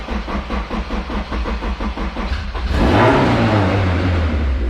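A Honda S2000 with a built K24 engine and very loud exhaust idles in a lumpy, pulsing rhythm, then revs hard into a rising, roaring sweep that stays loud and close.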